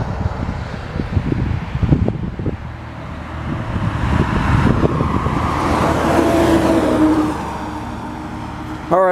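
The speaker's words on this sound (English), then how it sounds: "Yeah, kind of seems like a busy road today." Cars passing on a busy road, the newly painted Route 205, with steady road roar, wind buffeting the microphone and a swelling pass midway; a voice talks briefly early on.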